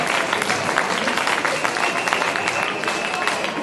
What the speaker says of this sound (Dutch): een hartelijk applaus voor Kira Buk.